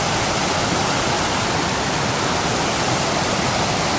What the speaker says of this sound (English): Some pretty cool rapids here.